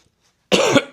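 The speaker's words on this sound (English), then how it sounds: "I'm really sorry about the cough" A single loud, close cough bursts out after half a second of near silence, lasting about four tenths of a second, during a master cylinder install on a 2024 KTM 300 XC-W dirt bike.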